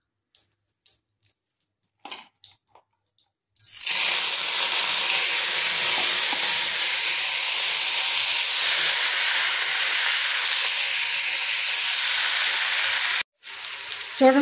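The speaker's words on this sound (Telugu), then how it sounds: "చూడండి, కొత్తిమీర మగ్గుతుంది కదా, ఇంకా కొంచెం మగ్గించుకుందామండి" Coriander leaves wilting in a hot pan while making coriander chutney, giving a loud, steady sizzling hiss that starts abruptly and holds for about nine seconds before stopping, with faint clinks before it.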